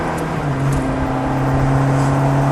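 A Ferrari F430 engine accelerates on a track's banking, a loud steady drone with strong sustained tones that hold and shift slightly in pitch as speed builds, heard without any talk.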